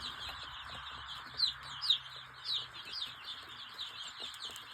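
Village chicks housed beside Atak chicks chirp in quick, high peeps, fairly faint and scattered over a low background hum, with no voices.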